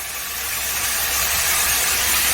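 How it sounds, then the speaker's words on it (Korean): Oil spitting and sizzling hard in a hot wok as jjamppong ingredients are stir-fried at home, a loud continuous crackling hiss swelling slightly, close and without talk. "이렇게 기름이 튀죠?"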